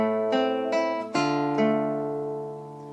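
Acoustic guitar plays a bar of Beethoven's Fur Elise with open strings and fretted notes: four close plucked notes, the third landing on a fuller chord, letting the last ring and fade.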